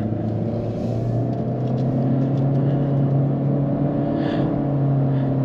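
A 2022 Honda Civic Sport Touring hatchback accelerates on an open road, its engine a steady, rising hum heard from inside the cabin with road rumble beneath.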